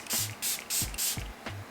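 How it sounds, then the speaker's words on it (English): Kosas spray-on serum mist in a glass bottle, sprayed in four quick hissing bursts with short pauses between, close and fairly soft, with faint low thuds between pumps. "It has a really fine mist to it, and it just hydrates the face really well."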